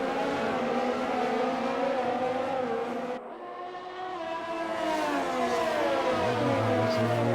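A Mercedes-powered race car on the Bahrain circuit in a racing game screams past at high revs, a dense whining engine note that dips briefly mid-pass, then climbs again as it accelerates away, alongside other engines.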